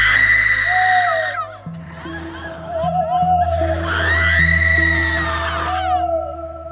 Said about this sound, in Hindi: अचानक आत्मा ने जंगल में जोर से चिल्लाया